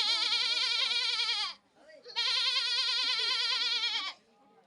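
A voice imitates a goat bleating in two long, wavering, nasal bleats separated by a short pause, loud and close, as part of a Bhojpuri comedy act of mimicking sounds.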